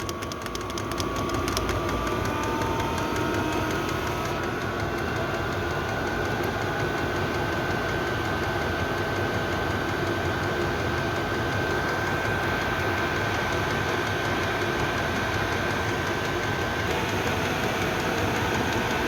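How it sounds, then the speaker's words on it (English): A Chinese diesel heater burning kerosene runs steadily and ramps up, its motor whining and its fuel pump ticking in a fast, even rhythm, close and continuous with no talk. "If I crank it back up again, you'll hear it ramping up again, and the pump goes faster."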